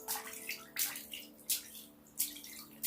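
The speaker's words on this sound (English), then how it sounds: "Just really hit the water, slap the water." Hands slapping and splashing bathtub water in rhythmic bursts, about one every three-quarters of a second, close and alone, with quiet dripping between strokes.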